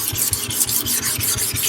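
A Japanese natural whetstone is rubbed back and forth across a heavily worn 400-grit lapping plate, giving rhythmic gritty rasping strokes about four per second, close and alone.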